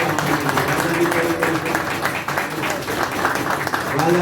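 Crowd applause for a prize winner at a 2022 prize distribution ceremony in London, steady clapping filling the whole stretch, with voices mixed in beneath.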